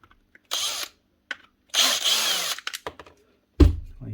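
Short bursts of a power driver backing screws out of the magazine of a Paslode 360Xi gas nail gun, three separate whirring runs with clicks and handling noises between them, close up and without talk.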